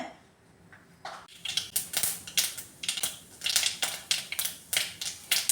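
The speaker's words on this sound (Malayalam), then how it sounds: "ഇതിലേക്ക് ആവശ്യത്തിനുള്ള വെളിച്ചെണ്ണ ഒഴിച്ചു കൊടുക്കുകയാണ്. ഇനി കടുക് ഇട്ട് കൊടുക്കാമേ." Mustard seeds spluttering in hot coconut oil for a Kerala jackfruit-seed thoran, heard as bursts of rapid, irregular crackling pops that start after a second of quiet and then keep coming close and loud.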